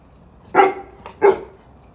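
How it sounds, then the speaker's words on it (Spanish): Two loud, close barks from a cane corso dog, a short pause between them, with a quiet room behind. "¿Qué haces ladrando, tío? ¿Estás ladrando?"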